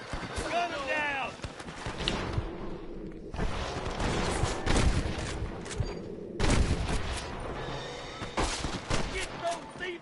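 Repeated gunfire from a Western shootout in the video game Red Dead Redemption, with bursts of shots cracking through the full clip over shouting voices and galloping hooves.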